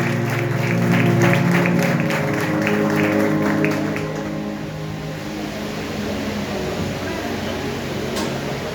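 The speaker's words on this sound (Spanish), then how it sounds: "Dale un aplauso maravilloso a Dios que todo lo puede." A congregation at a Christmas church service applauds in a broad, busy burst that fades after a few seconds into a lower murmur of room noise, with a held musical tone underneath.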